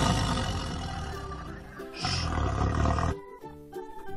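A tiger's roar in a children's phonics alphabet song, loud and drawn out for about three seconds, then fading into the song's music.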